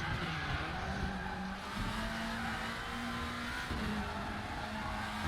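Volvo WTCC 2017 touring car in the Raceroom sim at Salzburgring, a steady loud engine drone with a faint tyre squeal as the rear wheels lock under braking, no talk.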